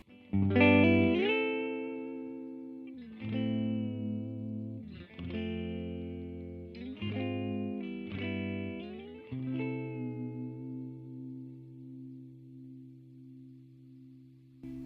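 An electric guitar plays a series of sustained chords through a Supro Airwave 1x12 amp with reverb at a quarter up, each ringing out with a washy reverb tail before the next.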